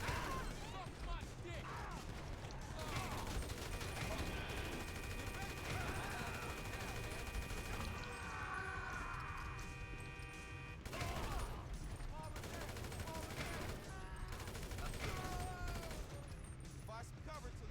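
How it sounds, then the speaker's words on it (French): Gunfire in the video game GTA V crackles in dense bursts under game noise, with scattered reports through the whole stretch and a steady electronic tone partway through, while voices talk over it. "Find some cover till he stops shooting."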